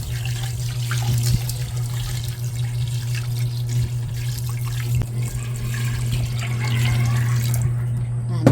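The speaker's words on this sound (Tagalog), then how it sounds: "Yan, at lalagyan na po natin ng tubig." Tap water runs steadily into a cooking pot for boiling water buffalo meat stew, a constant close rushing flow with a low hum beneath it.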